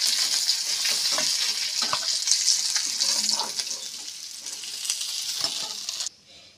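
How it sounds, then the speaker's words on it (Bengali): Fish heads rubbed with salt and turmeric fry hard in mustard oil, a steady close bright sizzle with occasional stirring knocks and turning, easing off and dropping away near the end. "মাছের মাথাগুলো উল্টে পাল্টে একদম কড়া করে ভেজে নিয়েছি।"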